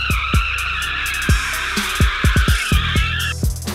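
A car drifting with a sustained high tire squeal that runs for over three seconds, broken by repeated sharp engine or skid bursts, loud and close; no talk.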